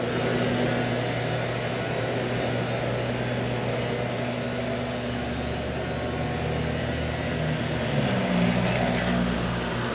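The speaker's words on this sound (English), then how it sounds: "Plane overhead." An airplane passes overhead above a city street, a steady broadband drone that holds at an even loudness for the whole stretch, with no voices.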